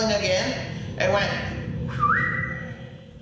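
A drawn-out rising whistle sounds inside the old Dr. J.J. Polk house, sliding up and holding a steady tone against background noise, with a voice talking over parts of it.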